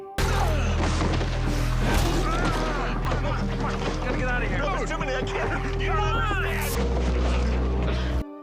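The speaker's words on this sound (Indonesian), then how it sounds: "truk tangki meledak dan membakar zombie yang berada di sekitar truk" A tanker truck explodes in a heavy, sustained roar with crashing and rumbling debris, loud and continuous throughout, with voices mixed underneath.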